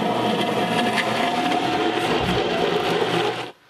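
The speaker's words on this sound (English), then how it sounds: "Everything goes in the blender, and then we'll blend it up" A blender whirs steadily while blending salad dressing, a dense, loud mechanical drone that runs without a break and then cuts off abruptly near the end.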